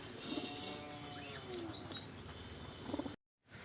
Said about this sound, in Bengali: তো চলুন আমরা কী কী কবুতর আছে এটা জোড়া জোড়া দেখি